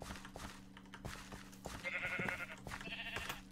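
Sheep bleats in the video game Minecraft, two short nasal wavering calls in the middle and near the end, heard faintly over game clicks and a low steady background hum.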